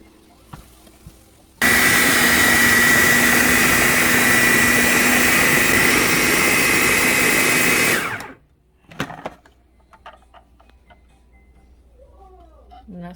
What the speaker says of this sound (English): I'm going to empty everything from here into the food processor, and we'll take it for a spin.